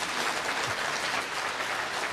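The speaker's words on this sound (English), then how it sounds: "that's why the crowd are applauding that was-frame ball" A snooker crowd at the International Championship quarter-final in China applauds a frame ball, a soft, even patter of many hands heard from some distance for about two seconds.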